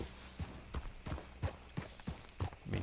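Horse hooves in Red Dead Redemption 2 clop in a steady, regular rhythm of about eight hits over a few seconds, close and moderately loud, with a faint ambient bed underneath and no talk.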